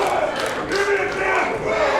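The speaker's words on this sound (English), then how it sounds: "Crowd is coming to life" Wrestling arena crowd at an NWA mixed tag match roaring and yelling together, a dense continuous wall of cheering voices.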